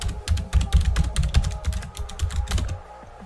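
Fast, uneven clatter of keys on a computer keyboard, close and clear, with short bursts of keystrokes that trail off at the end.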